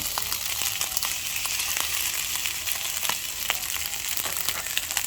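Scrambled egg and fried rice fry in a pan with a steady, close sizzle and crackle, while occasional scrapes and stirring knocks sound over it and no voices are heard.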